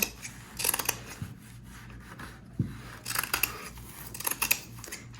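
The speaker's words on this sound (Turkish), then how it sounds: "Etrafından bir santim pay vererek kesiyorum iki katı." Scissors cutting through two layers of fabric for a round placemat: a string of close, crisp snipping and rubbing strokes in short irregular bursts, with no talk.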